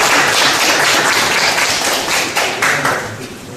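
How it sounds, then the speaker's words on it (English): Audience applause welcoming a guest speaker at a lecture on John F. Kennedy's legacy, a full burst of clapping that stays strong and then thins out toward the end. "let's welcome our speaker with a big round of applause"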